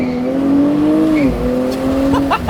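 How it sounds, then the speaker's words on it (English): A Nissan Z NISMO with an automatic transmission accelerates hard, its engine note rising steadily and shifting pitch, with a brief tire chirp on an upshift near the end. "It is chirping the tires on each upshift."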